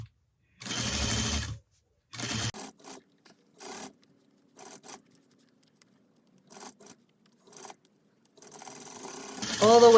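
A sewing machine stitches a zipper onto a pillow at a drapery shop, running in short bursts with pauses between them and quieter bits of fabric handling in the gaps.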